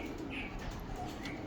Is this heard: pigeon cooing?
yes